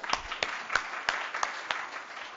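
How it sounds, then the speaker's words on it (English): Sparse clapping from a small seminar audience for speaker Carolina Schulte-Holstein of the Swedish Ministry of Health and Social Affairs, about half a dozen distinct claps spaced evenly over a faint room background, with no talk. "So a big round of applause for Carolina."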